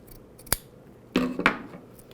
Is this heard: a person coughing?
no